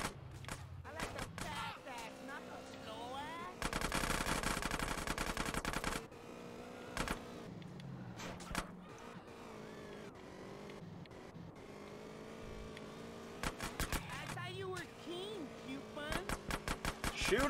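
Gunfire in the video game GTA San Andreas comes in rapid automatic bursts, one long volley and a tight rattling run near the end, mixed with vehicle engine noise and voices.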